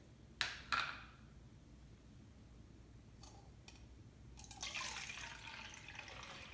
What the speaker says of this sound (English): I'm just going to add the nectar solution back to my